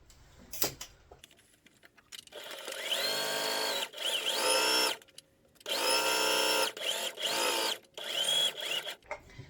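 A sewing machine stitches fabric for a LARP belt pouch, running in several loud whirring bursts of a few seconds each. Short pauses and small clicks from handling the machine fall between the bursts.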